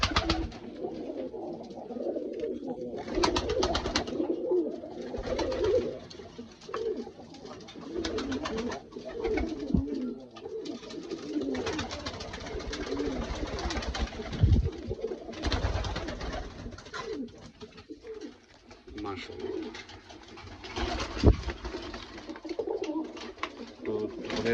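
A chocolate Dobaz Bombay pigeon coos in a loft, a low rolling burble repeating throughout at close range, with soft rustling and shuffling around it and no talk.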